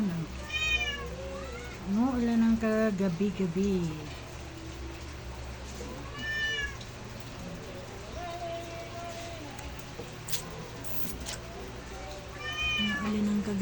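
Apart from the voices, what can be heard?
cat meowing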